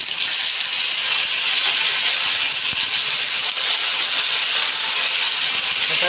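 Tomatoes hitting a hot pan of fried urad dal for a peanut tomato chutney, giving a loud, steady, continuous sizzle and hiss of frying without talk.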